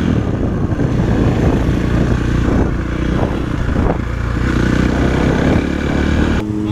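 A KTM 450 SX-F Factory Edition dirt bike's four-stroke engine runs loud and close, rumbling steadily with rhythmic revs and mechanical clatter for several seconds.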